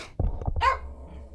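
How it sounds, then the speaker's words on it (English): A dog gives one sharp bark close by indoors, followed by a short whining, growling tail that fades out, with no talking. "He's always the one barking upstairs."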